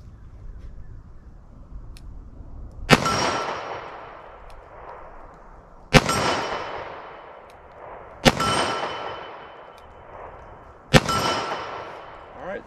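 A revolver fires .38 Special Federal Punch rounds outdoors. Four sharp, loud shots come spaced a few seconds apart, each followed by a ringing echo. Faint speech is audible between the shots.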